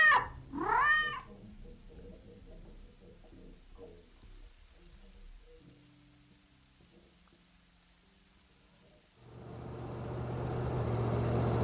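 A cat in the video game Beholder gives two short meows at the start, followed by a quiet stretch with faint low tones, then a rising rain-like hiss swells toward the end.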